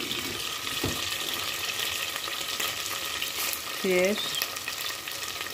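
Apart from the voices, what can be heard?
frying tarhana with sucuk and tomato paste in a pan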